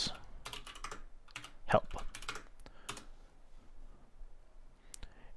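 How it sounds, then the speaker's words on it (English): Close, quick bursts of key clicks as a command is typed on a computer keyboard, uneven taps clustered early then thinning out, with a brief spoken word among them. "we can test that by typing chime feature table filter features"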